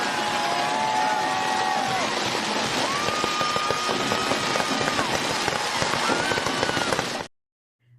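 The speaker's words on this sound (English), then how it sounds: "My sister, she loves these fireworks." Fireworks set off for a family celebration crackle and boom continuously for about seven seconds, with whistling rising streaks overhead, then stop abruptly into near silence.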